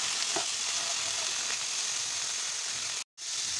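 Cabbage frying with carrots, beans and chillies in a pan, a constant close sizzle with faint scraping of stirring, briefly cutting out near the end.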